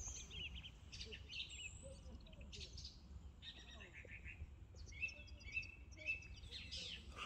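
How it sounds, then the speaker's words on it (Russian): Birds sing outdoors in the evening with scattered chirps and short trills, faint and distant over a low background rumble. "Птицы как поют."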